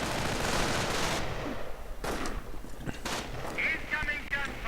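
Riflemen and snipers trade fire in a strategy video game, with scattered sharp shots and booms over a thick, continuous battle din.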